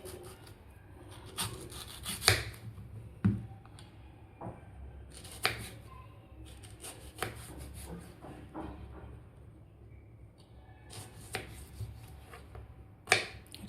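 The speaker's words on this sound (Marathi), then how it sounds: "आता आपल्याला एक कैरी कापून घ्यायची आहे." A peeled raw mango being cut into small pieces, heard as irregular scraping and cutting strokes with sharper clicks at intervals.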